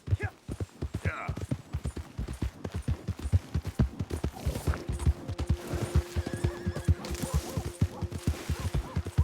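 A horse in the Red Dead Redemption 2 video game whinnies and then clip-clops at a steady, close rhythm, with a sustained tone and faint voices partway through.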